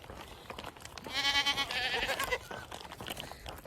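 Goats bleat loudly in a run of wavering, harmonic cries near a farm pasture, with crunching and rustling around them.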